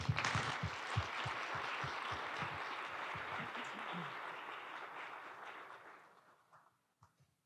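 Audience at a freight transportation panel event applauds warmly, the clapping full for several seconds before thinning and fading out, a few last claps trailing at the end.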